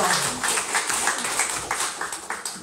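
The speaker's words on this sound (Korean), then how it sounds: "하나님께 영광의 박수를 드리겠습니다." A church congregation applauding during a Sunday worship service, a steady spread of many hands clapping at moderate level with a few sharper individual claps near the end.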